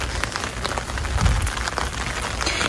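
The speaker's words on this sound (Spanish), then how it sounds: "Qué bonito el sonido de la lluvia, ¿verdad?" Steady heavy rain pours down outdoors during a tour concert, a dense continuous hiss with scattered louder drops pattering on surfaces.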